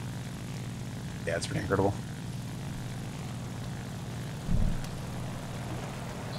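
Propeller engine drone of a La-5FN fighter in the War Thunder flight game, a steady low hum throughout under a voice speaking briefly.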